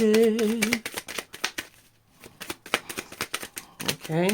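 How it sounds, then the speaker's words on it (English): Tarot cards being shuffled by hand in a series of quick, crisp riffling bursts, with someone speaking briefly at the start and near the end. "Last shuffle."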